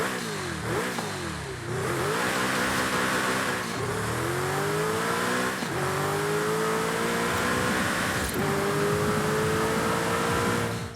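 A stock Noble M600 in Forza Horizon 5 revs hard through repeated upshifts, each climb of engine pitch broken by a quick gear change, loud and steady with no talking over it.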